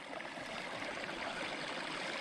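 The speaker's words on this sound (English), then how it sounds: "There's still an awful lot of water coming in up there." Steady broadband rush of water pouring into an overflowing garden pond by a canary cage, a continuous even stream-like gush with no pauses, close and fairly loud, no voices.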